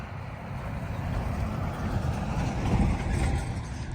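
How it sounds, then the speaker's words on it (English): A school bus rolls past outdoors near a walking trail, its engine rumble swelling and fading as a low continuous roar at moderate distance, with no talk over it. "As the school bus goes by,"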